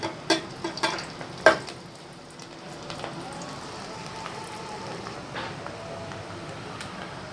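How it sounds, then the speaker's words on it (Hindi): Sliced onions fry and sizzle in oil in a pan for a dhaba-style dal mash, a steady crackling hiss with several sharp spatters and stirring clinks early on. "प्याज हल्की हल्की ब्राउन होनी शुरू हो गई है।"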